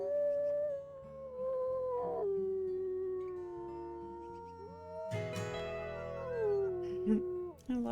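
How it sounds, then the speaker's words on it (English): Several wolves in WolfQuest howl together in long, sliding, overlapping tones, one voice rising and falling over lower sustained howls, swelling into a fuller chorus near the end. "Let's do a little howl here."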